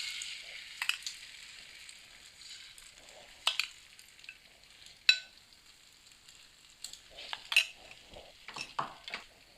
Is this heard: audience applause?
no